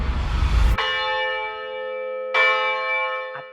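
Church bells in Iloilo and Capiz strike twice during Holy Week, a sharp clang then a long ringing hum that fades, followed by a second strike and a faint third tap near the end.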